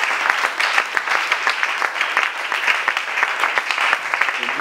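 Congregation applauding at a church worship service, a dense, steady wash of many hands clapping close by with no gaps for the full length.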